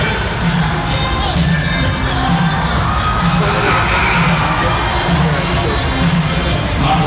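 Steady crowd noise from spectators at an NBL Canada basketball game between the Halifax Hurricanes and Saint John Riptide, a dense continuous roar of cheering and shouting filling the arena throughout.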